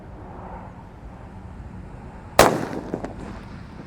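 A mercon bledek firecracker set in a hole in the ground goes off with one sharp, loud bang, followed by a brief rattle and a smaller pop against quiet outdoor background noise.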